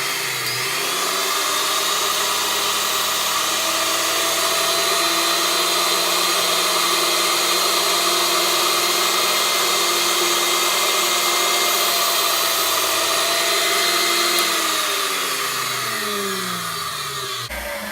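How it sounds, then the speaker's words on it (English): A grinding stone machine whirs steadily while dressing a valve seat during restoration of a 1920 Hercules 1.5 hp engine, a loud constant high-pitched motor whine that runs for most of the stretch and then spins down at the end. "So what we got to do is turn it on and level the whole thing out with the stone."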